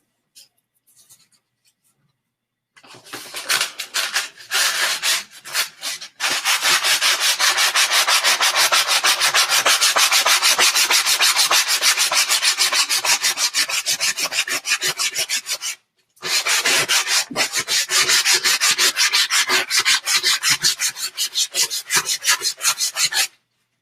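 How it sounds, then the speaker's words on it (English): A wooden stick shaped into a wand is rubbed with coarse sandpaper in long, fast, scratchy strokes, loud and close, with brief pauses between runs. "Still light sanding with the rough stuff first."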